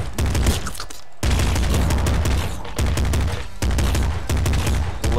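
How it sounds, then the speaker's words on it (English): A machine gun fires in the video game Nuclear Throne, with loud, dense rapid-fire gunshots in three sustained bursts separated by brief pauses, with no speech. "Got a machine gun."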